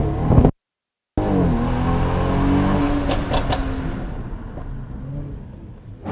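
The speaker's new car accelerating, a loud close engine note rising steadily after a brief cut, then easing off and fading.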